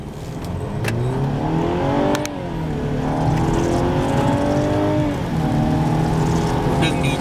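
A Mercedes-Benz C300 Cabriolet accelerating hard on a wet road, its engine note climbing through gears in loud, rising sweeps with brief dips at each shift, while people talk over it.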